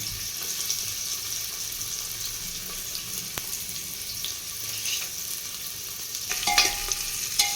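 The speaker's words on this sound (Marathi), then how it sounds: "आता कांदा आपण परतून घेणार आहोत" Chopped onion sautés in a pan for mutton paya curry, a soft, steady sizzle with occasional scrapes and stirring clinks, faint and close, growing a little busier near the end with no one speaking.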